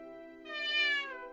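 A single drawn-out house cat meow, rising and then falling in pitch, close and fairly loud over a faint steady hum, with no talking.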